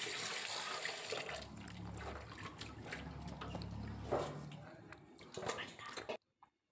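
Fish being washed with water and turmeric powder, soft splashing, sloshing and trickling close by with handling noises, steady for several seconds before stopping abruptly.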